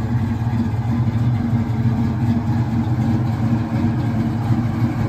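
Steady, close idle from a 1969 Plymouth Barracuda Formula S 383 V8, a deep rumbling burble with an even, slightly lopey pulse, continuous throughout.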